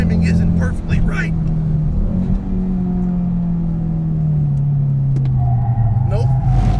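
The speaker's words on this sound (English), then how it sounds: "it's really easy to rev match on the way down" A car engine revs and rumbles steadily as the driver blips the throttle to rev match on a downshift, the pitch sliding down then rising again, loud and close throughout.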